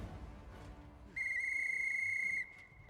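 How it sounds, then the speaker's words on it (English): A dwarf character in Pathfinder: Wrath of the Righteous blows a decorated whistle in a video game, giving one steady, piercing high-pitched tone about a second long that stands clear over a low background. "Pulling the whistle decorated with a ruse from his pocket, the dwarf brings it to his lips and produces a high-pitched thrill."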